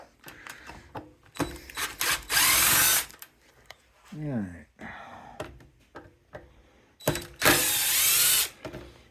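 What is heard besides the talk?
power tool driving Torx screws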